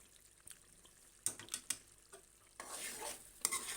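Garam masala being stirred into a half-kilo chicken gravy in a pan, with a spoon scraping through thick gravy in soft, irregular strokes and a low sizzle that grows busier toward the end, close and fairly quiet.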